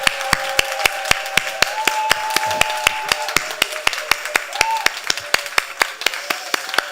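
Church congregation clapping to welcome a newly registered member during a service: a steady run of sharp, evenly spaced claps under a sustained tone, with no speech over it.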